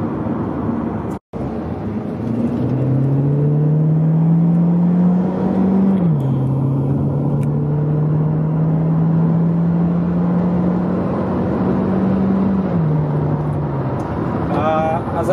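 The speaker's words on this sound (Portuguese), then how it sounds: "As acelerações, as trocas de marcha do Cruze, elas são bem suaves" A 2017 Chevrolet Cruze Sport6 LTZ accelerates with a steady engine hum inside the cabin, the pitch climbing gently and dropping smoothly at two gear changes, loud and continuous throughout.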